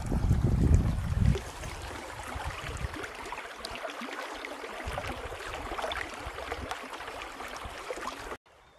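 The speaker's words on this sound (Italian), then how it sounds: "Provate a sentire il rumore dell'acqua." Stream water flows steadily near Misurina in the Dolomites, a continuous broad rushing and trickling close to the microphone, louder in the first second or so, then even until it cuts off near the end.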